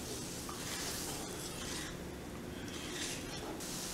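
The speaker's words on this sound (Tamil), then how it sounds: "பாருங்க நல்லா கொதிக்குது." Salted water boiling in a pot for sago vadam, a steady close bubbling and hissing simmer that continues evenly without talk.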